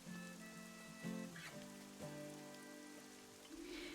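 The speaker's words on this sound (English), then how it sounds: "I told you it was gonna rain." Steady patter of rain falling on a surface in the video game Fall of Porcupine, soft and continuous with faint game music tones layered underneath.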